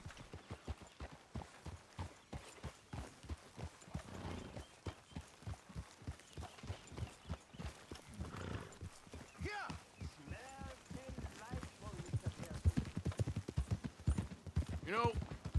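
Horse hooves clip-clop steadily in Red Dead Redemption 2, a fast regular rhythm of close, distinct strikes running throughout, with a voice talking over parts of it.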